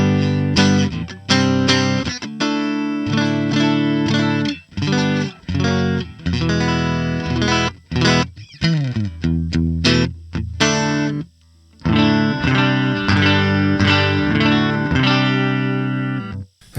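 Electric guitar played through the Jazz Rivet 120 amp model on a Line 6 HX Stomp, with chords and single-note phrases that stop and start and a touch of drive and chorus, close and loud with no talking.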